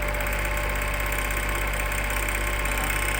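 A laboratory test engine runs under increasing torque, giving a constant close droning hum with a faint knocking texture and a thin steady whine.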